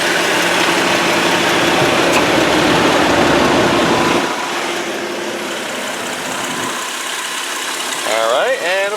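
A 2004 Ford Freestar SE minivan with a 3.9 liter six-cylinder engine running, a loud steady hum that drops to a lower idle partway through, with a person briefly speaking near the end.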